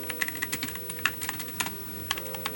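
Fast, steady typing on a Pichau P531 RGB keyboard fitted with white pudding keycaps: dense, crisp clicky key strikes close up, fairly quiet, with no voices.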